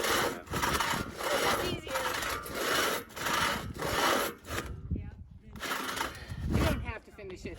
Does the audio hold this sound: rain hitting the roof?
no